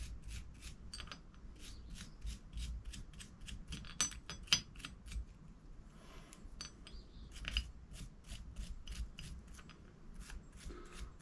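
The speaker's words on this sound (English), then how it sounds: "this is just a bronze brush" A bronze brush scrubs the bolt of a Browning BAR .308 rifle against an aluminum plate, making quick, repeated scratchy strokes at a steady rhythm with a few sharper scrapes, close and fairly quiet, with no talking.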